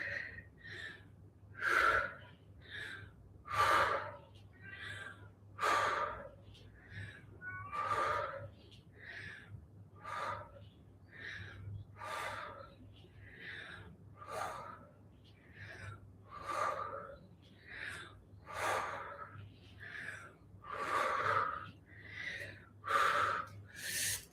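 Forceful rhythmic breathing done while standing in a breath exercise, a steady series of sharp, loud puffs repeating roughly every second or two, close to the microphone.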